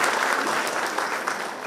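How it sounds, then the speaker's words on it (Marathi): Audience at a felicitation event giving a short burst of loud, dense applause, steady throughout with no talk. "जोरदार टाळ्या खरं तर शेखरच्या विषयासाठी."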